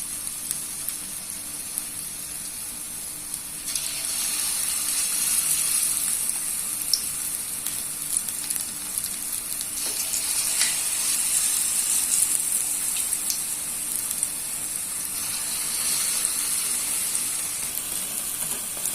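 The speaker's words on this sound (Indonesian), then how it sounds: "Ini untuk adonan bakwannya saya goreng ya." Bakwan vegetable fritter batter fries in hot oil in a wok, a steady close crackling sizzle with brighter spitting bursts that swell and settle over the whole stretch, no voices.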